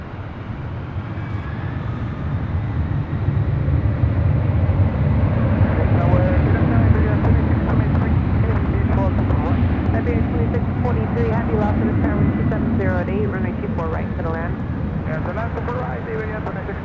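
A heavy airliner rolls on runway 24 right at Los Angeles International Airport, its jet turbines a loud, steady roar with a broad low rumble that holds throughout, while faint tonal engine whine rises and shifts in the background.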